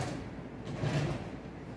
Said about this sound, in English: stop the spindle by opening the doors.